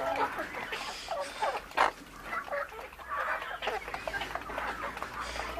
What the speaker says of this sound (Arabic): يا رب سكت الفراخ دي لحسن الناس اتبعت خلاص